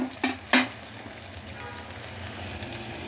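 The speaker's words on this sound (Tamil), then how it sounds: "இப்போ இதில் நம்ம அந்த அரைச்ச பேஸ்ட்டு போட்டுடலாம்" Ground onion, ginger and garlic paste dropped onto golden sautéed onions for kuska biryani, two sharp clanks of a spoon on the pan followed by a rising steady sizzle, close up with no speech.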